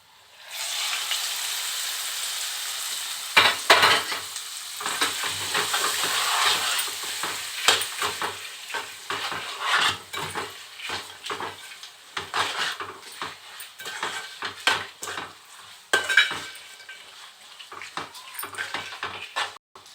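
Hot tempering is poured into gongura (sorrel leaf) chutney and stirred: a steady, fairly loud sizzle with frequent clinks and scrapes of a spoon against the pot, running throughout with no talk.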